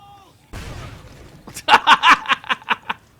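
Explosions and a burst of crackling impacts in the State of Decay 2 game, a rumbling blast followed by a rapid rhythmic series of loud pops, with a voice briefly audible.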